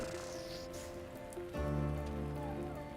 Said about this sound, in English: One day, it started to rain and rain.